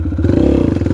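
Close, loud dirt bike engine revving hard with a rapid throbbing pulse as the rider gears up for a wheelie on a neighborhood ride, no talk over it.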